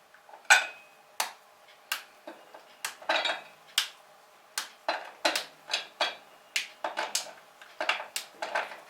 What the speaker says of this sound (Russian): ломаем шоколад на кусочки.